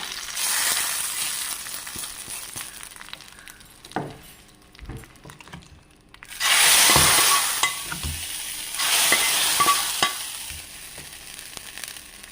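Spices, curry leaves and chillies frying and being stirred in a pan in a home kitchen, with steady loud sizzling that swells in bursts around stirring scrapes.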